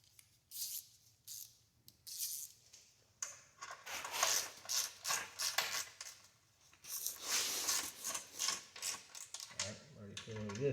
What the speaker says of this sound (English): And start torquing again.